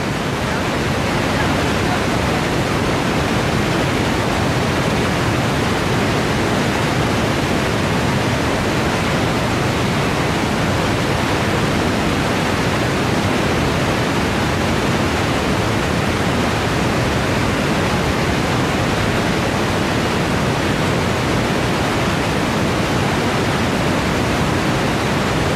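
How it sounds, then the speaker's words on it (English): Victoria Falls roars with a loud, dense, unbroken wash of falling water that stays steady throughout, close and overwhelming. "Welcome to Victoria Falls, the largest waterfall in the world."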